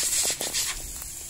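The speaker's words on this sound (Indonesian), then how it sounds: "Proses flushing sudah selesai" Pressurized flushing of refrigerator evaporator pipes during repair of a fridge with a leak from a knife puncture, heard as a brief loud hissing rush of gas that fades into a softer steady hiss.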